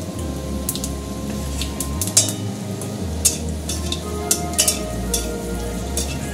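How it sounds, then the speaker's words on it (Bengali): Three dried red chillies and nigella seeds crackle in hot fish oil, a steady close sizzle broken by sharp pops and spits. "এখানে দিচ্ছি আমি 3টে শুকনো লঙ্কা মাছের তেলে, আর দিচ্ছি কালো জিরে ফোড়ন"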